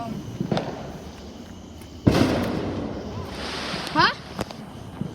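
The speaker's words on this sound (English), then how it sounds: "Now we do the weird fireworks, the real ones." Fireworks bursting at a Fourth of July night display: a sharp loud blast with crackling, then further crackling pops and whistling, heard outdoors with faint background noise.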